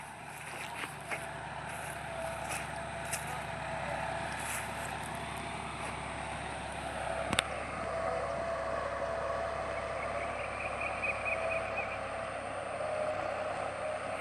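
A John Deere 5405 tractor pulls a reversible plough through sticky field soil, giving a steady, fairly loud engine drone throughout with a brief sharp knock partway through.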